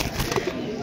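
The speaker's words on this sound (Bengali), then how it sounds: "এখানে সব মালবাহী পায়রা দেখাচ্ছি" Pigeons coo softly among background chatter and bustle at a street pigeon market, low murmuring calls partly masked by the crowd.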